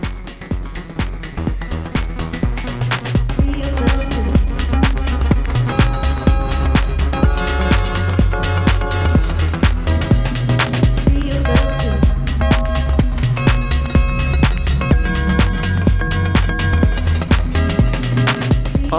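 Deep house track built on a modular synthesizer, playing on its own with no voices: a steady four-on-the-floor kick, thick bass notes and chiming synth chords over an even, loud groove throughout.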